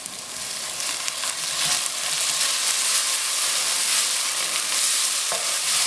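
Onions sauté in a hot pan, browning for achari kofta sauce, a steady bright sizzle and hiss with faint stirring scrapes, close and continuous with no voices.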